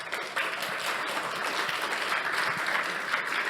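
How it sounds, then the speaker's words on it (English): Audience applause after a conference breakout talk, a dense wash of clapping from a sizeable crowd that starts abruptly and holds steady throughout. "let's give them a round of applause."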